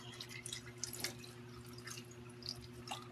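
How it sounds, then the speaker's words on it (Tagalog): Water is added to a pan while paksiw na bangus cooks, heard as faint scattered drips and small splashes over a low steady kitchen hum. "Lagyan natin ng tubig."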